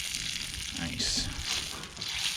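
Butter and breakfast food fry in a pan on a Gerber Devour-series camp stove outdoors, giving a soft, steady sizzling hiss with a few brighter crackling swells.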